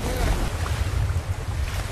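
Stormy ocean waves in the movie Cast Away: a dense, continuous roar of crashing surf and wind, loud and close with no break.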